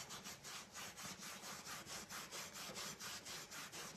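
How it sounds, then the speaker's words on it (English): Steel wool scrubs wax into wood grain with brisk, even back-and-forth strokes, a close, rhythmic rasping that carries on alone without talk. "you're going to want to rub this against the grain to get the wax right into the grain"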